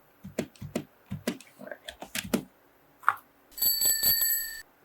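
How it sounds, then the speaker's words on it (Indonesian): A bicycle bell ring sound effect, a bright sustained ring near the end that follows several sharp clicks and taps, loud and close with no talk over it. "ini bicycle ring bell"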